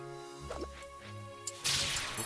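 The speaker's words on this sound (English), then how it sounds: "I'm intentionally breaking gems." Gems break in the cooking video game Battle Chef Brigade, with quick whooshing cracks over steady game music that end in a loud shattering burst.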